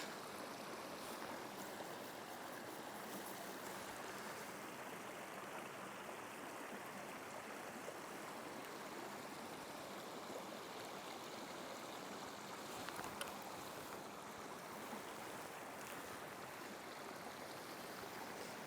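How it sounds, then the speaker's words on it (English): A small tidal stream flows over stones in a quiet, wild spot. The water makes a steady, even rush and trickle that sounds fairly soft and continues without any voices. "Not a very big stream."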